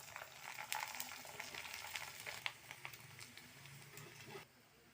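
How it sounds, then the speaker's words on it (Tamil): Four pieces of sun-dried tomato vathal (vadagam) fry in hot oil, giving a steady close crackling sizzle with scattered pops that cuts off abruptly near the end. "இப்போது எண்ணெய் காஞ்ச உடனே வத்தல் நாலு போட்டிருக்கேன்"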